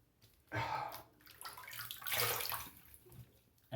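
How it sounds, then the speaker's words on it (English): Cold running water splashes as a face is rinsed by hand, in two close bursts of sloshing and dripping with a quieter gap between them. "Let me just rinse it off with some colder water."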